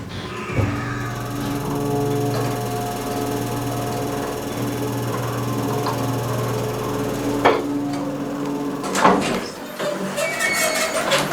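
A Chiselbrook hydraulic elevator at the Quality Inn in Williamsburg, VA runs with a steady close hum and tonal whine, then slows and stops, followed by a few clunks and knocks.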